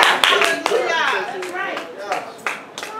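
Scattered applause from a congregation at a live-streamed worship gathering for its performers, a handful of distinct claps ringing out among voices that talk and call out across the space.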